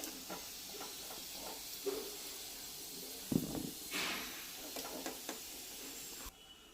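Chicken pieces frying in oil for pickle, heard as a quiet sizzle under scattered clinks and scraping stirs, with a couple of sharper knocks and a short hissing burst partway through.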